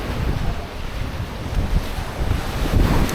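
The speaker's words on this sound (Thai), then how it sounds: "โอ้แต่ลมแรงจริงๆ" Strong wind blows across the lakeshore beach of Lake Victoria in Uganda, a steady, loud roaring rush buffeting the microphone with low rumbles and no voices.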